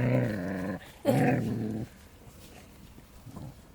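A mother dog's low growl in two close bursts near her puppies, the second ending abruptly, followed by quiet background noise.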